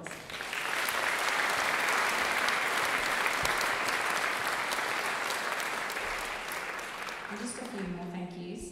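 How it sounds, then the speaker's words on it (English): Round of applause for the performers at a concert, a loud, dense ovation from the audience that builds quickly and holds, easing slightly near the close as a voice starts talking over it. "So please give these guys a round of applause."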